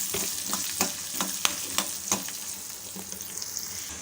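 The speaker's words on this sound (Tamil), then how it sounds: "கொஞ்சமாக கருவேப்பிலை சேர்த்துப்போம். சேர்த்து அப்படியே கலந்து விட்டுக்கலாம். இது எல்லாமே தாளித்து ரெடி ஆகட்டும்." Curry leaves and spices sizzle in hot oil during tempering, with a steady crackle close by and scattered sharp pops and stirring scrapes.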